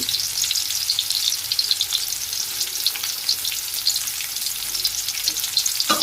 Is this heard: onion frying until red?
yes